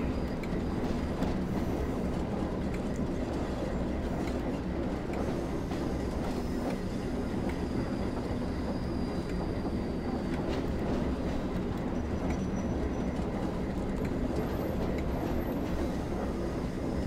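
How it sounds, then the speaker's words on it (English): A train runs steadily downhill on the Northern Trans-Pennine route in Train Sim World 4, a continuous rolling rumble of wheels on rail with faint clickety-clack, holding even and close throughout. "The train is still going downhill, technically."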